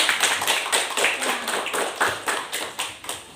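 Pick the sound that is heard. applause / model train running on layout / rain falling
applause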